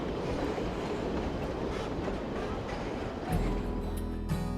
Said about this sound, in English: This is Puffing Billy, a steam train that's been running these rails for a long time